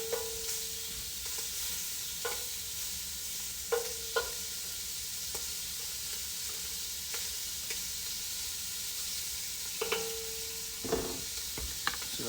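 Jambalaya ingredients, including andouille sausage, cooking over high heat in a pot, giving a steady broadband sizzle with scattered clicks and scraping stirs, moderately close and without voices.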